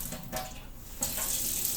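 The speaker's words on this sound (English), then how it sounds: "put the water on and let it pour until it gets hot" Water from a kitchen tap pours steadily into a bowl, a continuous hissing splash that grows brighter and fuller after about a second, close by with no talking.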